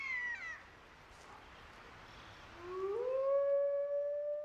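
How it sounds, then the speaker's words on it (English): Wolves in snowy Siberian wilderness howl in a long, rising, drawn-out call, faint and distant at first before one howl swells clearly toward the end. "Howling, the wolf call to arms, gathers the pack and warns other wolves to back off."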